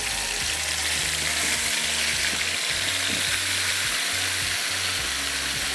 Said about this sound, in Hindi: मटन और इसको अच्छे से हम कर लेंगे फ्राई